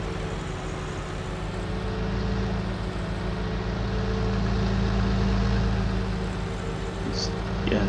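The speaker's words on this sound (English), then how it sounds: "It's really putting some weight on the engine," In Farming Simulator 19, a vehicle engine strains under a heavy load with a steady, deep, rumbling drone and layered low harmonics that hold throughout, while someone talks over it.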